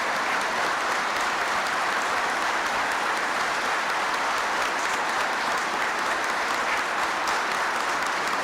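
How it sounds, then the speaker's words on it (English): Sustained applause at a 1993 Veterans Day address by President Clinton honouring World War I veterans. Dense, even clapping from a large audience continues steadily for several seconds at a strong, constant level, with no speech. "I know that applause is for all World War I veterans."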